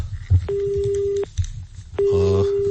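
A telephone busy tone after a call disconnects sounds in two steady beeps, each lasting under a second, separated by a short gap with faint background noise.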